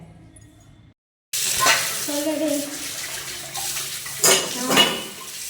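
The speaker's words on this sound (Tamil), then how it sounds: "என் ஃப்ரெண்டுகிட்ட ஃபோன் பேசிக்கிட்டே தான் பாத்திரம் கழுவ போகிறேன்" Dishes clatter and water runs in a sink, with scraping and clinking of pots and utensils, close by; a voice speaks a brief word near the start.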